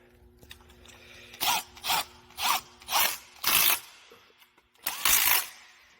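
A ratchet tightens a bolt on the engine of a 2013 Mercedes-Benz C250 with six close, crisp bursts of rapid clicking, each about a third to half a second long and separated by short pauses, with no talking.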